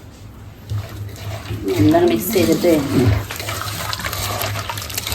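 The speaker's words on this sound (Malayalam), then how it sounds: "വെള്ളം ഒഴിക്കുക." Water poured into a pot of curry being cooked with salt, a rushing splash rising for a couple of seconds then settling into a steady trickle, with a person speaking over it.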